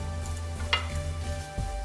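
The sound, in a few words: hilsa fish eggs frying in a pan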